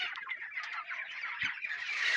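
Broiler chickens at a poultry farm crowd around freshly poured feed, giving off a continuous close chorus of soft clucks and chirps with faint pecking, no talk.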